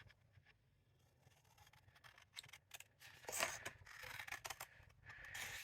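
Big scissors slice through a sheet of craft paper, with close snips and a rustling, sliding cut that builds louder over several seconds, no talking.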